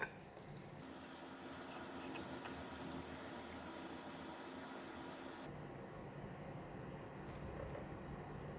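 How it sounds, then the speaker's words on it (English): Hot soup poured from a pot over yee mee noodles in a bowl: a soft, steady splashing pour lasting several seconds, close and fairly quiet, with no talking. "So now we can pour the hot soup over the noodles."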